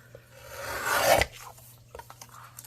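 Vintage Victorian vellum paper being cut, a raspy scraping stroke that swells to a loud peak around the middle and then stops, followed by a few faint clicks and rustles.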